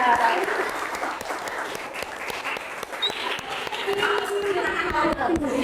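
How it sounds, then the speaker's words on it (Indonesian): Steady applause from a classroom audience fills the whole stretch, dense clapping with a faint murmur of voices underneath. "Kasih tepuk tangan dan semangat."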